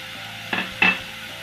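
Chopped green chillies being stirred into momo filling in a pan, two short scraping strokes close by in an otherwise quiet kitchen.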